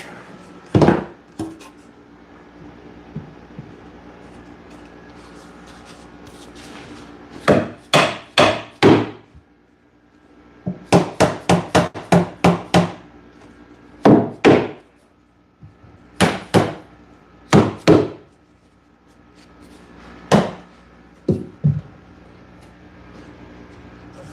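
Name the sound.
hammering during wood furniture assembly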